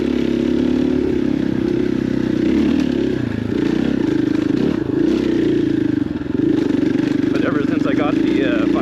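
A KTM 500 XCF-W dirt bike runs along an off-road trail at Stonyford OHV with a steady, close engine drone. It holds a fairly even pitch, with slight rises and dips in revs and some clatter near the end.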